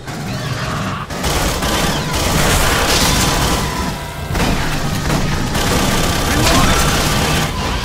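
Turret gunfire in the Aliens: Colonial Marines game, with dense, loud bursts of automatic shooting and booming impacts running almost nonstop, brief lulls near one and four seconds, and voices talking over the firing.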